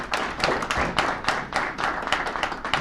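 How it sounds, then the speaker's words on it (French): A conference audience claps for Professor Omar Aktouf after his talk, a close, uneven run of hand claps and thuds with pulsing bursts rather than a smooth roar. "un applaudissement à M. Aktouf"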